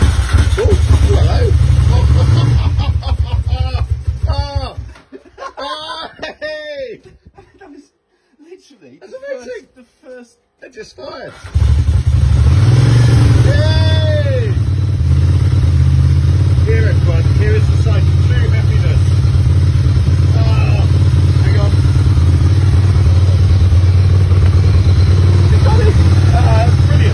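A Ducati 750 Sport motorcycle engine fires on a first start attempt, catching and then running loudly and steadily with revs rising, while people talk and laugh nearby.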